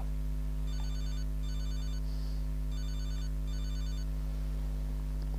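Four evenly spaced bursts of a trilling phone ring sound inside the game GTA Liberty City Stories, moderately loud over a constant low electronic hum, with no one speaking.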